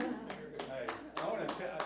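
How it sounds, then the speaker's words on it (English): Applause at a board meeting, a short burst of several rhythmic hand claps from a small group of people indoors, mixed with voices talking. "Can we have a little applause here?"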